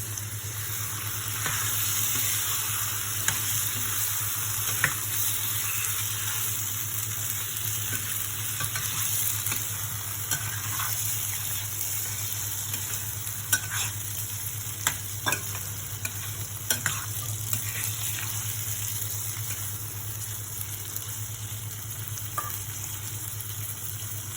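Pumpkin kofta gravy with added water bubbles and sizzles steadily in a pan while a spoon stirs it, with occasional clicks of the utensil against the pot under a constant cooking hiss.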